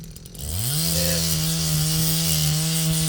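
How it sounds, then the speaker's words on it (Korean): A chainsaw or power saw cuts through tree growth at an old country house, a steady sustained engine drone that rises in pitch and then holds loud and continuous throughout. "올라오는 나무 좀 자르고"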